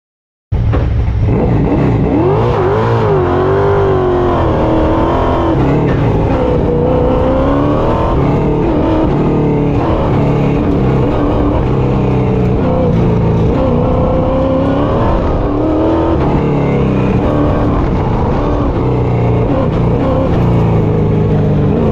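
A Chevrolet Camaro race car drives an autocross course, engine roaring steadily loud and close for the whole stretch, revs rising and falling through acceleration, shifts and braking, with no talking.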